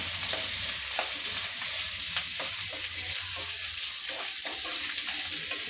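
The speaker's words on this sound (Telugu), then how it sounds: "కొంచెం కొత్తిమీర మరియు ఆనియన్, స్లైస్డ్ ఆనియన్ అన్నీ ఒకటేసారి వేసుకొని ఫ్రై చేసుకుందాం." Sliced onions and coriander frying together in very hot oil make a dense, continuous sizzle, close and loud, with small stirring knocks and scrapes scattered through it.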